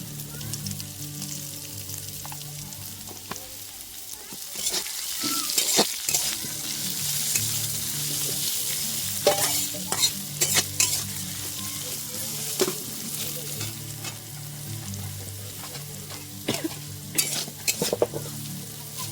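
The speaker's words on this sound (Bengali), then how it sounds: "দিয়ে একটু হালকা নেড়ে নেব। হালকা পরিমাণে একটু হলুদ গুঁড়ো দিয়ে কালারের জন্য হলুদ গুঁড়ো দেব।" Chopped green chillies and turmeric powder fry in a pan with a steady sizzle, broken by repeated scraping and clinking strokes of a stirring spoon, close up and without talk.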